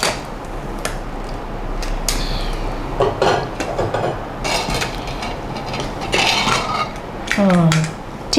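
A spoon stirring a traditional coarse-grain Annakut dish inside a metal pressure cooker, with continuous clinking and scraping of metal on metal, close and busy, with light voices in the background.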